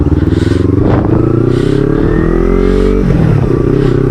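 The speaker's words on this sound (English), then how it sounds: "this is not the stock exhaust which you are hearing" Kawasaki Ninja 300 motorcycle with an aftermarket Akrapovic slip-on exhaust, loud and close, the engine note rising and falling through revs with a raspy throb.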